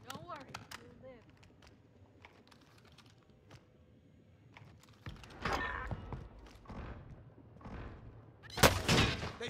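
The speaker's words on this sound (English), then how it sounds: "They're shooting me!" Gunfire in Call of Duty Warzone on the Caldera map: scattered sharp shots early, then louder, denser bursts near the end, with quiet game sounds and a voice in between.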